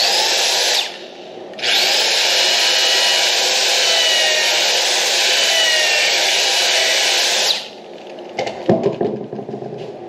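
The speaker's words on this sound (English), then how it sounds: "I have the depth stop on my drill set, so I'll just drill these." Power drill boring pocket holes into wood with a depth stop set, one long steady whirring run of about six seconds after a brief start, followed by quieter clatter as the bit withdraws.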